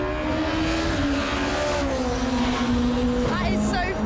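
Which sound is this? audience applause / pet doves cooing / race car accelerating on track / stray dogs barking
race car accelerating on track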